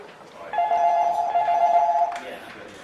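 A telephone rings once in a busking booking office as phone lines open, a loud steady electronic tone lasting about a second and a half, with faint background noise around it.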